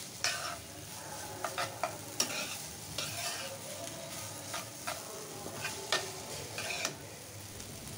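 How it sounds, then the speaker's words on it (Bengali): Noodles with vegetables and egg being stir-fried in a pan: a soft, continuous sizzle broken by repeated clicking and scraping strokes of a utensil against the pan, heard close and alone without speech. "এখন আমি আস্তে আস্তে করে নুডলসের সাথে সবজি আর ডিমগুলো মিক্স করে নেব।"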